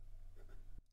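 A fountain pen nib moves across paper in a brief, quiet stroke with a soft, slightly dragging scratch under faint background hum, ending abruptly after less than a second.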